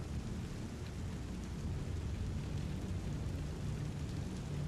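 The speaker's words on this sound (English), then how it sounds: "So there's the rain right there." Steady, dense rain with a low thunderous rumble inside the video game Star Citizen, a continuous even wash of noise with no voices over it.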